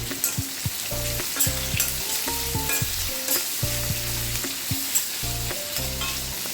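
Three long-sliced onions added to hot oil with slit green chillies in a pan for Chettinad chicken curry, frying with a steady sizzle and intermittent stirring clatter, close and loud with no talking.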